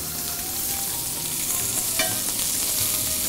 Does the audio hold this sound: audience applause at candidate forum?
no